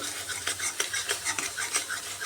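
Spice paste being stirred and fried in a pan for egg and potato curry, with a spatula scraping in a quick repeated rhythm over a soft sizzle, close and fairly quiet, with no talking.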